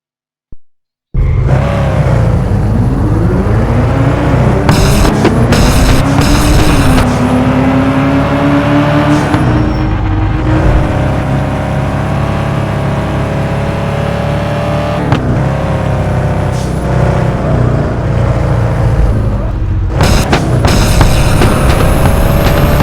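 Race car engines roar continuously in a Unity racing game demo, revving and shifting pitch as the cars accelerate, loud and steady for the whole stretch with no talking.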